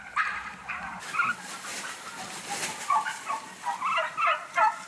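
Farm turkeys, including a weak bird unable to stand, gobble in repeated warbling bursts at close range with no talk, the calls rising and falling across the whole stretch.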